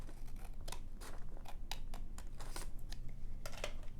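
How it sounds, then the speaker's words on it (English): Scissors snip through folded paper for a small handmade zine, a quick run of crisp, close cuts in an uneven rhythm, quiet and with no talking. "I'm going to take my handy dandy scissors here and I'm just going to cut"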